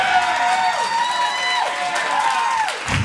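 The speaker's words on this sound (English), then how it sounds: "You guys are cheering like it's the only time ever" Comedy club audience at a stand-up show cheering and whooping in a sustained, dense wash of crowd noise, with a louder burst at the very end.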